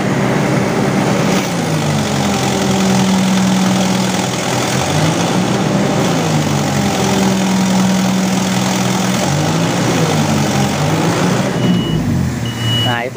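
A Kobelco SK200-8 excavator's diesel engine runs loud and close, its pitch sagging and recovering in repeated dips as it loses power, with a faint voice now and then.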